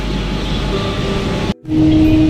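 A Kolkata metro train rumbles loudly and steadily nearby on an elevated line near Salt Lake Stadium station, with a brief dip in the noise before the roar resumes, slightly louder.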